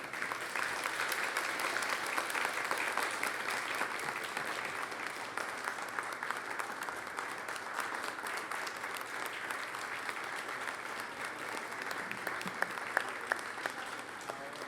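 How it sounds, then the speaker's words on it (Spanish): A large audience applauds steadily after a formal speech at an academy of sciences induction ceremony, a dense, sustained wash of clapping with no voices rising above it. "Redoblemos los aplausos para el doctor Puello, por favor."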